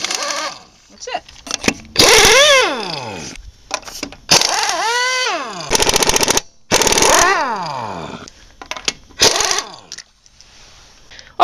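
An impact wrench set to reverse hammers car lug nuts loose in repeated loud, rattling bursts of a few seconds each, with pitch sweeps as the tool spins up and down, close by with short pauses between nuts.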